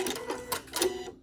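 A sewing machine back stitching on a quilt, a short quick burst of rapid mechanical ticking, quiet and close, stopping abruptly after about a second.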